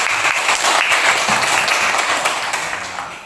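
Classroom applause as students clap together for a classmate, a loud, continuous burst of many hands that carries through and eases off slightly near the end.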